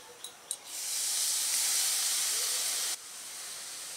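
A paste of ground mustard and poppy seed hits a hot frying pan with a sharp sizzle. Two brief clicks come first, then a loud steady hiss that drops suddenly and continues more quietly.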